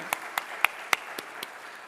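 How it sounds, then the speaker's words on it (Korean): A handful of sparse, separate hand claps, about six spaced through two seconds, from a church congregation at a Wednesday evening worship service welcoming the pastor's wife. They sound moderately near and fairly faint, with no talk over them. "한번 박수로 환영해 주시면 고맙겠습니다"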